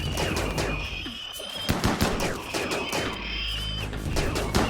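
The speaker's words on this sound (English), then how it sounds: "So let's bring in the X6 gunfire." Dense, rapid gunfire from the video game RimWorld rattles continuously in loud bursts, mixed with whining electronic tones and crackling impacts.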